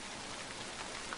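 Quiet, steady rain drips and patters in a continuous soft wash, with no voices over it.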